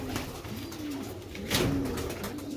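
Sialkoti rooftop pigeons coo in soft repeated rolling calls close by, with a slight rise in background noise partway through.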